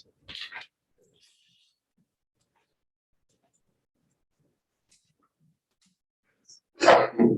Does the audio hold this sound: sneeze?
yes